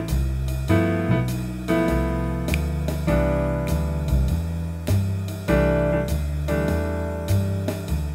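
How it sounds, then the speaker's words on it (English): Piano plays a series of rich, jazzy rootless voicing chords, each struck and left to ring, in a slow, even rhythm with no talking. "you can use these beautiful chords called rootless voicing chords"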